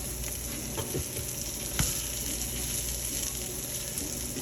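Salmon patties sizzle steadily in a pan with a constant hiss of frying. Faint clicks and one brief scrape come through as the patties are flipped back over.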